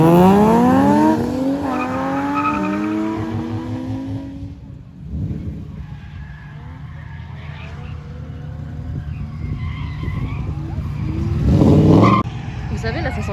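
Cars battle at a drift event, engines revving hard with rising and falling pitch and tires squealing loudly, then a quieter stretch before another close, screeching pass, with voices faintly underneath.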